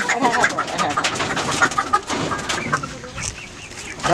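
Chickens cluck and chatter inside a coop in a rural home, with busy overlapping bird calls and a faint voice in the background throughout.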